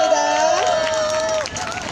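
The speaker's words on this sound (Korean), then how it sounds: "마지막으로 우리 옆에 있는 서로의 용기에 나의 용기가 되는 분들에게 큰 박수와 함성 한번 보내드리겠습니다" A crowd at a Wednesday demonstration in Korea over the Japanese military sexual slavery issue claps and shouts, a sustained cheer riding over dense, steady applause that holds loud throughout.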